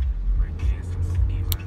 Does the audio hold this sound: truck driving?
yes